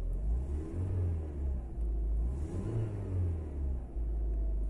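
A warm VW Golf IV engine idles steadily at about 1150 rpm, giving a low, even rumble close by with slight wavering.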